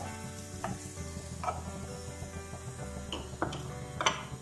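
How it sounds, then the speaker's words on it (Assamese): Raisins frying in ghee in a pan while making a papaya sweet, with a steady close sizzle, scraping stirring strokes and a few sharp clicks of a spoon against the pan. "ইয়াতে মই এই খিচমিচ কেইটাও অকণমান ভাজি লওঁ।"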